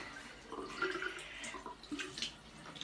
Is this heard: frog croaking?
no